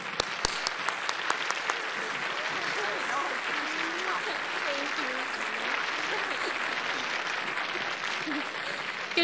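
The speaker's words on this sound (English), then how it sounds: "please join me in a round of applause as we welcome the intimidable co-chairs of this event, Kay and Sally" An audience at a philanthropy event applauds with sustained, dense clapping that fills the room evenly, along with scattered louder claps and a low murmur of voices underneath.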